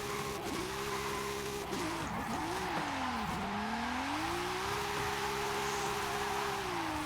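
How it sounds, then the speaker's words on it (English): A German super saloon in a racing video game revs steadily as its throttle is worked, the engine note rising and dipping while the tires spin with a continuous squeal, loud and close throughout. "You have so much power you can actually play with it and still spin tires"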